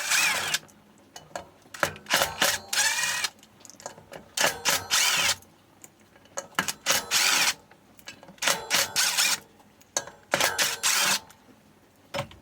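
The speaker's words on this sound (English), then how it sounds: "I'm going to use my impact driver with the T20 because I'm lazy." An impact driver fitted with a T20 Torx bit drives M3 Torx screws on an e-bike hub motor, with loud rattling hammering bursts of about a second each, repeated several times and separated by short pauses.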